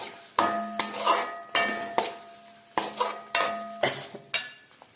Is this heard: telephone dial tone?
no